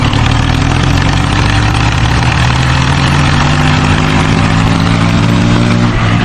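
A tractor engine runs in a cotton field, a loud, close, steady low rumble with an even throbbing drone that holds without change until it cuts off at the end.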